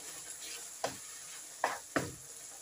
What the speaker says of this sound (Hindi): और अभी 5 से 6 मिनट और इसको भूनना है, फ्राई करना है हाई फ्लेम पे।